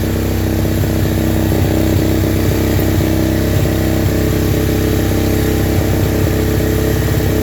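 A Suzuki-style SSR125 pit bike fitted with a Nibbi carburetor idles close by at a steady, loud, slightly uneven putter that does not rev up or down, running alone without talk.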